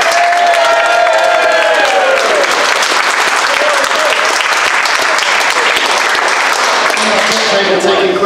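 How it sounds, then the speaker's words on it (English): An audience at the Belle Vue Bar gives a sustained round of applause during a live football radio show, a dense wash of clapping with a voice heard over it at the start and again near the end. "Everybody in attendance, give yourselves a round of applause at the Belle Vue Bar."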